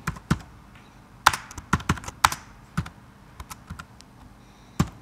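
Keys pressed on a computer keyboard while entering C++ pointer code in Xcode, irregular close clicks and taps in short bursts with pauses between, no voice.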